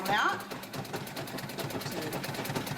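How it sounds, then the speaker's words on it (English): A sewing machine runs a zigzag stitch on cloth for a reusable feminine napkin, a steady rapid rhythmic whir of needle strokes heard close up. "So I'm just gonna do a quick zigzag stitch, finish out that zigzag stitch down that."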